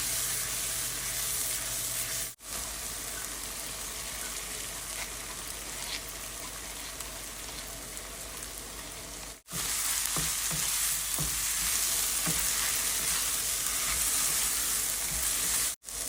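Spices with chili, coriander and cumin powder fry in a pan with a continuous hissing sizzle and occasional stirring scrapes, broken by a few brief silent cuts, no voices heard.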